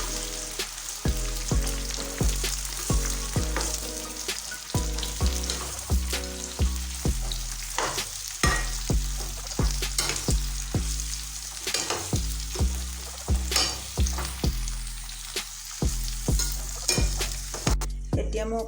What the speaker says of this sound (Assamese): অলপ দেৰি এনেদৰে ভাজি ল'ম